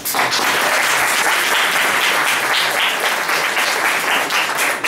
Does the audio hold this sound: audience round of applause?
yes